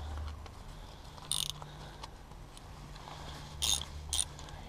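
Ratchet socket wrench with a cheap 19 mm socket cranking a bolt on a 2000 Honda Civic 1.6 engine, giving a few short, faint clicking bursts over a steady low hum.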